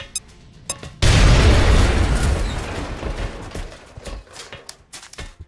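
A grenade blast in the X-COM: Enemy Unknown video game erupts as one sudden loud boom, then a long rumbling decay with scattered debris and crackle, preceded by a few faint clicks.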